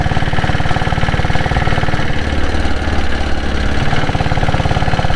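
A Royal Enfield diesel Bullet motorcycle engine thumps steadily while riding, with loud, close, rapid low pulses running continuously and a slight change in rhythm midway.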